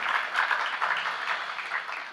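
A congregation at a religious sermon claps in support, a steady, moderately distant patter of many hands that fades slightly toward the end, with no talk over it.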